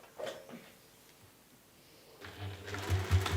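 A sewing machine stitches a bag seam with a quarter-inch allowance, a faint start then a steady mechanical whirr building over the last second, fairly close and alone.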